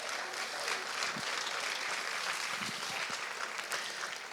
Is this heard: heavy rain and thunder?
no